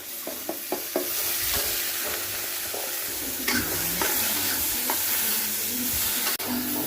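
Onions sizzle steadily in a hot pan, a continuous frying hiss with occasional scraping stirs and clicks of a utensil.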